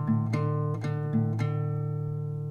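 Acoustic guitar with a ringing open A bass note under a rhythm part, several quick strummed attacks over the sustained low string, soft and close with no voices.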